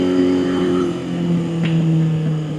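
A Honda CB750 restomod motorcycle engine runs at full throttle, a steady loud droning buzz held close for a couple of seconds with no talking.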